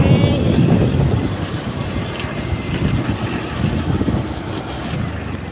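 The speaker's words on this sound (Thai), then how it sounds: "บรรยากาศกำลังหนาวมีลมพัด" Cold wind blows steadily across the microphone outdoors, a loud, continuous rushing roar with gusty swells and no clear talk.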